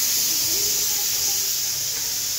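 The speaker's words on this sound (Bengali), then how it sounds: "আর ওইদিকে প্রেশার কুকারে সিটি পড়ছে।" A pressure cooker vents steam in a steady, continuous hiss, moderately loud and unbroken throughout, with faint low background sounds beneath it.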